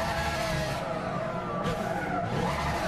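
A Ferrari GTO in Gran Turismo 6 brakes hard with strong braking pressure, its tires skidding and squealing continuously over a steady engine drone, loud and close throughout.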